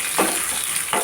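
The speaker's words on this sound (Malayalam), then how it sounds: "അതിലേക്ക് നമുക്ക് കുറച്ച് കടുക് ഇട്ട് കൊടുക്കാം" Mustard seeds, dried chilli and garlic sizzle loudly and steadily in hot oil, close up. Two brief stirring scrapes come through the frying, and no one speaks.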